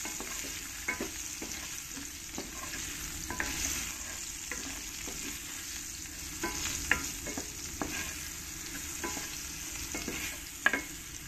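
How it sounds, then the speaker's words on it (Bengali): Potatoes fry in oil with salt and a pinch of turmeric, a steady close sizzle broken by repeated scraping strokes of a spatula stirring the pan, with no talking. "দিয়ে আলুগুলোকে একটু সময় করে লাল লাল করে ভালো করে ভেজে নিতে হবে।"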